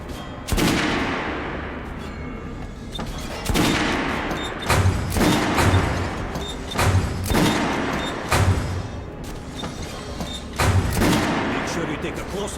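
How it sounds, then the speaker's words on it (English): Repeated gunshots ring out at a shooting range in the video game Metro Last Light Redux, firing in separated bursts of loud cracks with sharp onsets, heard throughout alone with no talk. "Head over to my range and try out those guns."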